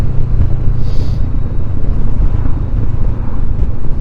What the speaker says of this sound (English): its exhaust is sweet.